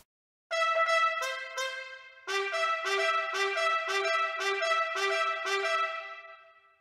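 Trumpet playing a bright, jaunty circus melody, a short run of staccato notes followed by a steady string of punchy repeated phrases, clear and up close with no talking.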